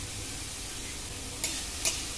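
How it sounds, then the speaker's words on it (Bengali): Potatoes frying in ghee give a constant soft sizzle, close and even, with two brief sharp clinks near the end and no voices. "খুব সুন্দরভাবে আলু কটা ভেজে নেব ঘি দিয়ে"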